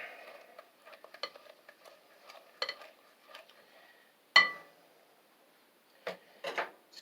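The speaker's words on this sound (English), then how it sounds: "I just like this rubber spatula because I can scrape around the bowl" A rubber spatula scrapes and stirs banana nut bread batter around a bowl in soft, irregular swishes and light taps, with one sharper knock against the bowl partway through; the sounds are close and quiet.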